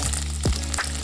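Potato, papaya, carrot and cauliflower frying together for sabur khichuri, a close continuous sizzle broken by a short stir or two, with no voices.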